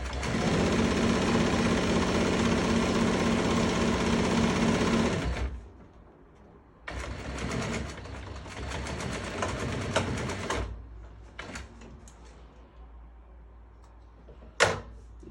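Sewing machine stitching upholstery fabric for an AutoGlide rock and roll sofa bed runs in a steady loud burst for about five seconds, then restarts in a shorter run, with quieter handling noises and a sharp knock near the end.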